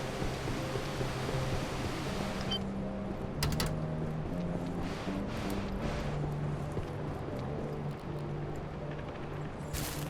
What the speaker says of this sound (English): It is going to be extremely loud though because of the waterfall, obviously.